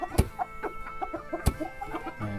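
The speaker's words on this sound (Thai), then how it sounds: "โอ้ยไก่กับพอไก่เลย" Chickens cluck repeatedly in a rural Lao village, a series of close, short clucks and squawks with a couple of louder sharp calls, no talking.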